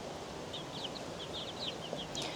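Chickens and roosters chirp and cluck in short scattered calls over a steady background hum, several birds close by.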